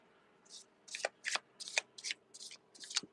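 Playing or tarot-style cards are shuffled by hand for a card reading, a quick run of about eight crisp riffling bursts at a steady rhythm, close and clear with no talking.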